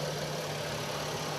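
A 2000 Chevy Impala's 3.4 engine with nearly 200,000 miles idles steadily, a smooth, even hum with a low droning tone, close and constant with no voices.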